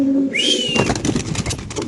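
Silver pigeons close by give a whistly call and cooing, then a loud burst of wing flapping that carries on as fluttering, with no voices.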